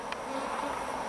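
Honey bees buzz around a Bolton Bees hive box in a backyard apiary, a faint steady drone that carries on without pause.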